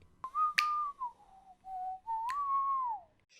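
A person whistles a slow wavering melody of a few sustained, sliding notes, close and clear in a quiet room, with a couple of sharp finger snaps between the phrases.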